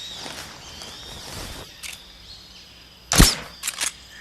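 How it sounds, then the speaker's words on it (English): A tranquilizer gun fires a single suppressed shot in Metal Gear Solid 3, a sharp sudden burst standing out from quiet game ambience, followed by a couple of softer short clicks. "I fired one shot off with my tranquilizer gun"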